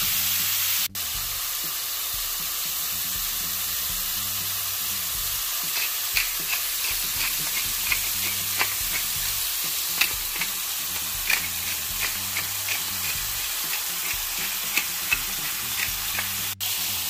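Meat browns in an Always Pan, giving a continuous close sizzle while a spatula stirs and scrapes in a run of light clicks through the second half, with no voices.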